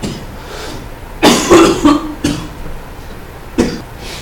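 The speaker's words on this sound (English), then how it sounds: "sorry, coughing fit." A burst of harsh coughs, several in quick succession, followed by a couple of separate coughs after short pauses; close and loud.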